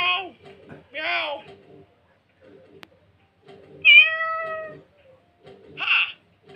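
Voices imitate a cat's meow several times in short, drawn-out calls in a Minecraft episode, spaced apart with quiet gaps between them.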